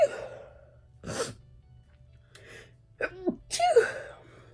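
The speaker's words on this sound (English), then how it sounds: "I got to sneeze." A single person sneezes indoors during a makeup session, with a breathy buildup and a sharp, close burst near the end, surrounded by soft sighs and quiet breaths under a low steady hum.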